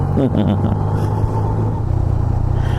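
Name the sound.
2018 Yamaha MT-09 motorcycle engine, clutch let out without throttle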